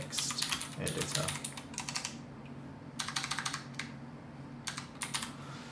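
Someone types into a text editor on a computer keyboard, tapping out quick bursts of close key clicks separated by short pauses.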